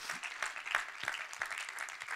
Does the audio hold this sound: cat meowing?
no